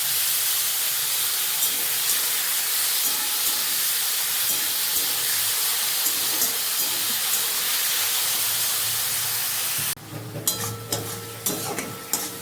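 Chopped tomatoes sizzle in hot oil tempered with dried red chillies and five-spice for tomato chutney, making a loud continuous hiss that gives way near the end to louder stirring clatter and spattering.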